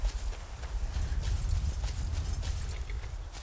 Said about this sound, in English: Let's get my horse real quick and go off on a journey.